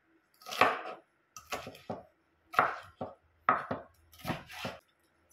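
Onion chopped on a board with a knife, sharp close knocks in irregular bursts of two or three strikes separated by brief silences.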